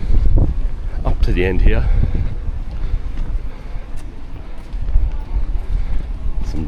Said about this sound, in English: And as soon as I say that, the wind blows, of course.